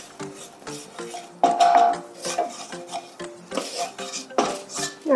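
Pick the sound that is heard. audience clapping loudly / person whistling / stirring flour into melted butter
stirring flour into melted butter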